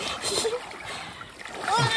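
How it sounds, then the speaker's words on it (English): Hikers wade through a cold, fairly deep brook crossing on the Appalachian Trail in Maine, with steady water splashing and sloshing close by and people talking over it. "we survived the Brook crossing"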